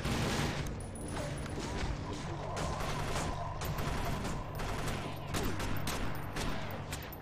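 Turret gunfire in the video game TimeShift rattles out in dense, continuous automatic bursts, loud and steady throughout with mechanical clatter mixed in.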